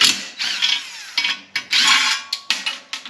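A ratchet wrench removes bolts from an engine shield on a Predator small engine, with repeated bursts of rapid clicking pawl action broken by short pauses, close and loud.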